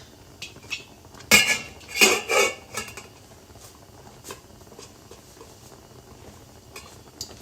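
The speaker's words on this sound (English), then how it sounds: "I'm constantly watching and whisking ever so often, because the reason why I'm doing this is that I don't want it to burn on the bottom of the pot" Sporadic clinks and scrapes of a whisk against a pot stirring Jamaican porridge, with a few louder metallic clatters early on, then quiet occasional taps.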